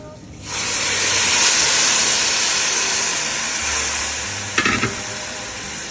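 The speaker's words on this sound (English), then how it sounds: "And I'll keep stirring." A loud hiss erupts as water hits a hot frying pan, settling into steady sizzling with a brief scrape of stirring food near the end.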